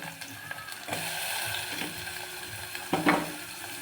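Tomatoes frying in a pan over onions give off a steady, close sizzle, broken by a few louder scraping stirs near the end.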